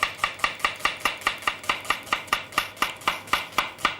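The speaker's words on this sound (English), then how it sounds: "get your knife and just slice straight down." A knife slices quickly straight down through an onion on a cutting board, making about sixteen crisp, evenly spaced chops in a fast steady rhythm, close and clear with no talking.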